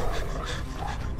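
A dog pants in the video game Beyond Two Souls, with rapid, close, breathy huffs layered over dense game noise for about a second.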